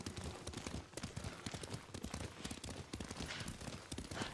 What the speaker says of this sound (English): taught me to ride a horse